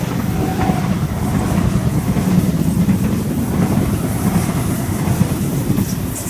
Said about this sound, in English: We've got a Waratah about to fly past platform number 4